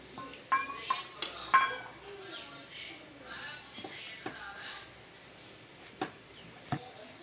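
Sweet bonda balls frying in hot oil and being turned, several sharp clinks of a utensil against the pan over a faint sizzle, quiet and close, with no talking.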